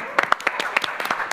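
Sparse, brief clapping from a small audience at an Indonesian talk show, a handful of separate hand claps in quick uneven succession.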